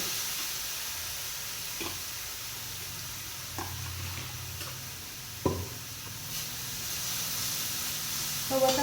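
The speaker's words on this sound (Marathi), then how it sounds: "असल्यामुळे फोडणी लगेच तळली" Phodni tempering spice mix fried in hot oil for a peanut dish hisses softly, with a few sharp crackles and pops rising from a quiet, steady sizzle close by in a home kitchen.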